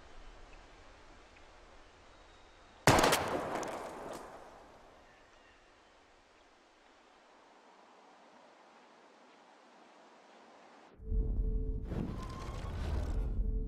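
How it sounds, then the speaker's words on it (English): Gunshots fired at bottles in the video game Life Is Strange: a sharp, loud crack with a long fading tail, then a quiet lull before a second burst of shots near the end, heard alone with no talk. "We're gonna shoot all these bottles without wasting a single bullet."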